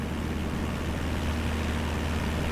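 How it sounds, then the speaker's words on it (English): Loud, unbroken engine drone fills the cockpit of a small training aircraft in flight over Ireland, a dense steady roar with no speech. "I don't want to listen to the aircraft engine too loud."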